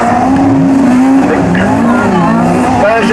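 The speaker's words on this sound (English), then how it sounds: "Mark Watson coming in to have a close look with the beautifully turned out Peugeot." A Peugeot race car with a Tony Vardy-prepared 1600cc 8-valve engine, run by T-Cell Motorsport, races past as a loud, steady engine note that rises and falls in pitch, with tyre squeal and an announcer talking over it.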